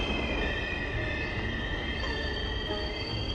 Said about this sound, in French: Le métro a fauché un mec et a dû s'arrêter d'urgence.